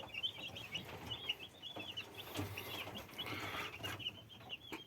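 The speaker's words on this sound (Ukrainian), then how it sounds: "Вони сьогодні висаджені в брудер і вже їдять е, з кормушки." Broiler chicks in a brooder keep up a constant chorus of high, shrill peeping, with many overlapping chirps at moderate distance and quiet rustling underneath.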